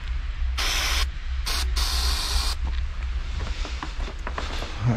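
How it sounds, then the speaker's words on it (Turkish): Brake pad spray is applied to a frozen car handbrake outdoors in snow, three sharp hissing bursts close by, followed by quieter rustling and handling noises. "Balata spreyi bu buzu çözebiliyor."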